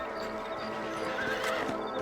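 Horses in the Red Dead Redemption video game whinny and clip-clop, hoofbeats and neighs over a steady outdoor ambience.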